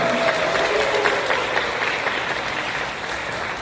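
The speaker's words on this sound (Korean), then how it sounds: "박수로 시작하겠습니다" A church congregation applauds steadily to open its members' general meeting, a dense, even wash of clapping that goes on for several seconds and then eases slightly.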